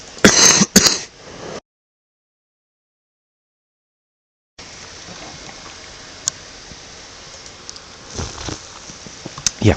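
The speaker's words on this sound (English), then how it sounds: "I just need to cough." A short burst of coughing and throat clearing, close and loud, followed by silence, then quiet background room noise.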